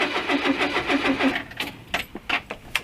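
A Renault Trafic van engine cranking repeatedly in a steady rhythmic churn, then cutting out into a few scattered knocks and clicks without catching.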